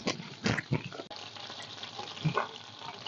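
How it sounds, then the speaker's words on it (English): Butter melting in a pan while being swirled for brown butter, a faint soft sizzle with occasional clinks and scrapes of the pan, quiet and close. "As it melts, continuously swirl the butter around the pan."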